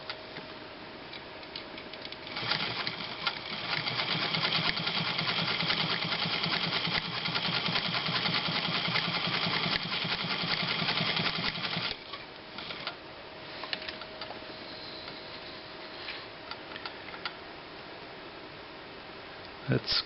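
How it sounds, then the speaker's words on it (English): A Montgomery Ward 21 Jewel Supreme automatic zig zag sewing machine running steadily at maximum stitch length on thin fabric, a fast even mechanical ticking and whir for about ten seconds, then stopping and giving way to quieter handling noises. "So we'll go stitch length all the way and see how big of a stitch we can make here."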